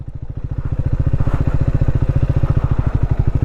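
Motorcycle engine idling close by at a lake in Ladakh, a steady rapid throbbing putter that holds loud and even throughout with no voices.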